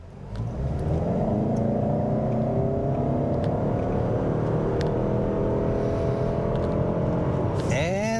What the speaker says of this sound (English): I'm gonna check it out from 0 to 60